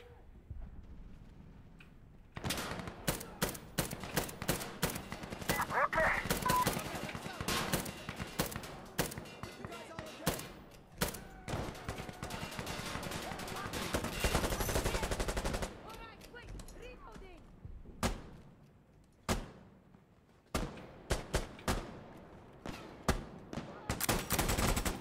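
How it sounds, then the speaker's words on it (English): Gunfire in the video game Insurgency Sandstorm, sharp rifle shots and rapid bursts cracking repeatedly, sometimes close and loud, sometimes spaced out, with a few quieter gaps between volleys. "What happened? People shooting."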